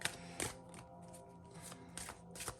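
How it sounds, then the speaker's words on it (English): A deck of astrology numerology cards being shuffled, quick papery riffles and flicks coming in several bursts over a steady background hiss, faint and close, with no speech. "we are going to shuffle the deck and wait until a astrological sign pops out"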